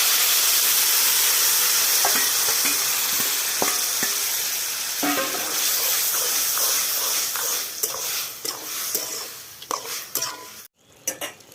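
Boiled bottle gourd is tossed into a pan of fried prawns for a Bengali lau chingri, with a steady hiss of frying and repeated clinks and scrapes of a spoon stirring against the pan, loud and close.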